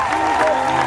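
A church audience claps and cheers in praise of Jesus at a worship service, a brief, steady wash of applause with a sustained tone running through it.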